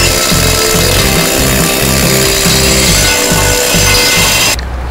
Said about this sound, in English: So I got a lot of the cancerous rust chunks removed with the help of my new needle scaler.